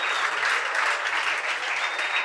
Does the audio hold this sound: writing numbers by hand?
no